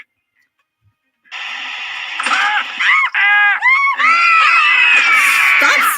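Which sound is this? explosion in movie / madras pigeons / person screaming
person screaming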